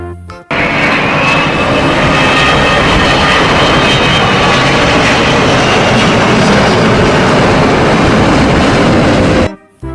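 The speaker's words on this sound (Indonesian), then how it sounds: "Pesawat terbang." Loud, steady airplane engine roar from a Garuda Indonesia toy airplane, a continuous droning whoosh held close for nearly ten seconds before cutting off abruptly.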